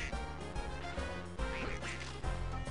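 A duck quacks in the Toy Story 2 video game, its calls sitting among dense game music and sound effects, loud and steady across the short stretch.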